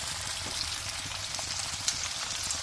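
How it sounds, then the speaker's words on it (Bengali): Chopped onion, garlic and sliced green chillies fry in a pan with a steady, close hissing sizzle and faint scattered pops, no talking. "পেঁয়াজ কুচি দিয়ে দিলাম, রসুন কুচি, ফালি করা কাঁচামরিচ। এগুলি আমি কিছুক্ষণ ভেজে নেব"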